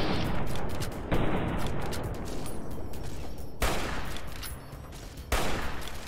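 Gunfire in the Fallout: New Vegas video game comes as a dense, continuous barrage of loud shots, with a sharp fresh burst roughly every second or two, close and heavy, with no talk.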